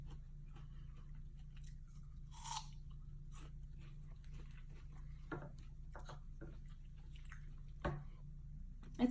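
Someone bites and chews a crunchy exotic fruit close up, with scattered crisp crunches and soft wet squishes spread irregularly over a quiet low hum.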